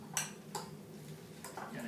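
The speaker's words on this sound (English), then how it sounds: "We kind of can mix the avocado with the tomato and the white onion here at this point." Avocado, tomato and white onion are stirred together in a bowl for guacamole. A few soft utensil clinks and wet scrapes sound close by at an uneven pace, with no talking.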